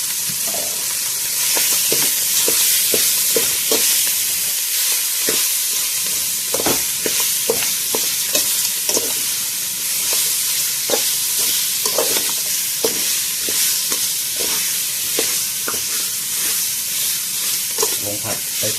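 Pork bones stir-fried in a hot pan hiss and sizzle loudly and continuously, with repeated scraping and clacking from a spatula stirring them at an irregular rhythm, close up.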